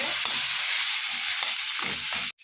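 Tomatoes and ginger stirred in a frying pan for a quinoa millet khichdi, a loud dense sizzle with a few soft stirring knocks, steady and close until it cuts off abruptly at the end; no talk.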